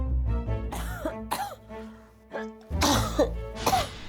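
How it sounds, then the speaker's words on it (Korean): A rhinitis sufferer coughing repeatedly and clearing the throat in a seasonal-change morning scene, close and harsh, in several bursts with a faint musical bed beneath. "멈출 줄 모르는 기침과 콧물이 아침부터 계속됩니다."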